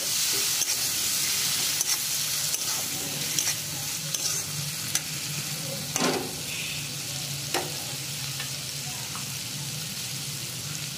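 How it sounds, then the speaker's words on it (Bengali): Spice paste with a splash of water is stirred in a pan for Bengali-style ghugni of curried yellow peas, a soft steady sizzle with scraping spoon strokes and occasional clicks against the pan, no talk. "একটু জল দিয়ে দেব, দিয়ে ভালো করে নাড়াবো।"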